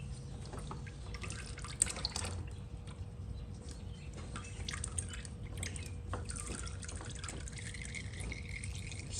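Old oil drains from a 2003–2005 Yamaha R6 motorcycle during an oil change, a quiet steady trickle and drip into a catch pan that runs continuously with no talking.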